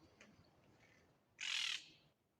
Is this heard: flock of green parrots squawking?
yes